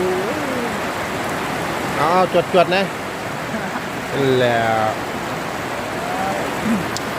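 Steady rain falls outdoors at a work site in Israel, a continuous even hiss throughout, with someone talking briefly over it.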